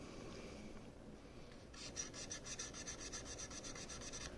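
Abrasive rubbing on NES game cartridge contacts to polish off oxidation: faint scraping at first, then a quick run of rhythmic back-and-forth strokes, close and quiet.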